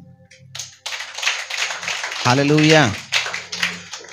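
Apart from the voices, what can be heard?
congregation clapping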